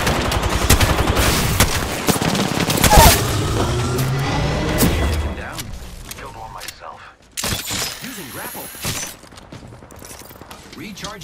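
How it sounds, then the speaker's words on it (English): Video game gunfire crackles in dense bursts with shots and impacts, loud and busy for several seconds before thinning into scattered mechanical clicks and effects. "Taking fire, friends."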